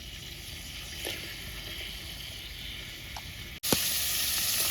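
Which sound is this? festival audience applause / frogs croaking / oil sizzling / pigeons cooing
oil sizzling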